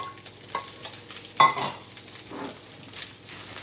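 Egg-coated rice stir-fried in a hot pan, with soft sizzling and repeated scraping strokes of a utensil against the pan, close and fairly quiet, with no talk.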